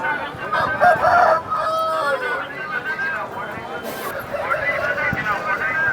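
A rooster crows loudly and close at the Nallapadu poultry market, its drawn-out calls rising over a busy background of other fowl and people chattering.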